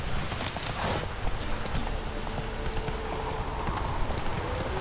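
Horse hooves clip-clop steadily at a walking pace in The Witcher 3 video game, up close and fairly loud over a light rain-like ambient hiss.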